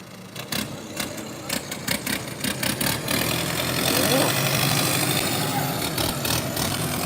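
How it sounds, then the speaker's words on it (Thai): A second-hand tractor engine runs with rapid chugging pulses that rise into a steadier, louder roar as it is revved, heard close, with people talking faintly in the background. "เอาลองเบิ้งดูแบบนี้"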